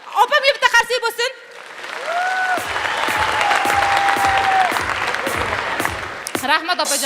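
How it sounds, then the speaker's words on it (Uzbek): Concert audience applauding in a sustained burst of clapping at a concert, with speech before and after the clapping and whistle-like tones rising over it. "Opam bitta qarsak bo'lsin."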